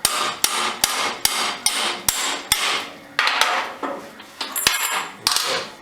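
Sharp metallic taps ring out as an old 3/8 extension is struck to drive a bolt out of a wood jointer pulley, about a dozen clanking hits in an irregular rhythm, close up with no voices.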